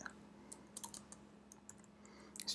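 Soft, quiet keystrokes on a computer keyboard as C code is typed, scattered irregular clicks and small bursts over a steady low electrical hum, with no voices.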